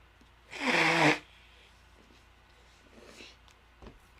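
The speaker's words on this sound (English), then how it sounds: "blow my nose a little bit" One short, forceful nose blow into a tissue, close and loud for about half a second, followed by faint rustling and small sniffs on a sniffly day.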